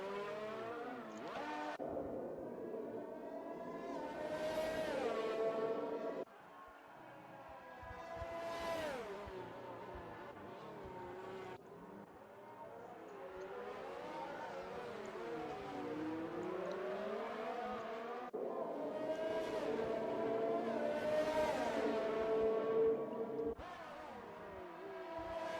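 Engine notes of several racing cars in a Monaco race video game, including two Renaults side by side, whine and rise and fall in pitch continuously, loud and close, with shifting tones as cars pass and change gear.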